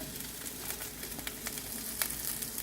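Beans and carrot sautéing in hot oil with onion and garlic for Chinese fried rice, a steady close sizzle with faint crackles and occasional stirring scrapes, no talking.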